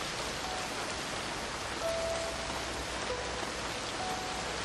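Steady rain hissing down, an even wash of patter with no breaks and no voices.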